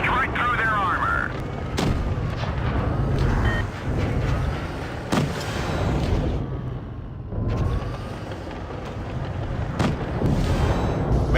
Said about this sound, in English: so I drop down a little bit, and then I'm able to get some shots in